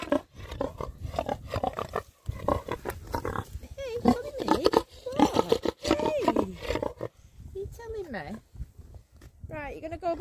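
Pigs on a farm grunt and squeal loudly at close range in repeated bursts, alongside people talking and some footsteps.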